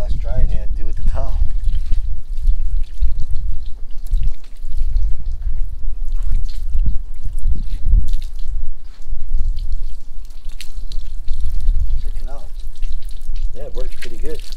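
Water floods over a car and sheets off its ceramic-coated panels during a rinse, a steady close splashing and trickling wash with low rumble and occasional voice bursts.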